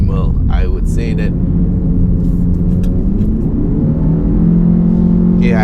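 A 2019 Nissan X-Trail with a 2.5L engine and AWD, driven hard, revs loudly from inside the cabin. The engine drones in a low, sustained rumble and rises in pitch, with someone talking over it briefly at the start and end.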